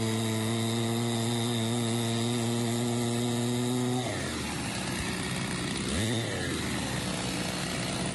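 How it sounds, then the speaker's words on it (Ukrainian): A petrol chainsaw drones at a steady high idle, then bites down into lake ice to cut a fishing hole, its pitch dropping and wavering as it works, loud and close with no talk. "За допомогою бензопилки щіль вирізаємо лунку"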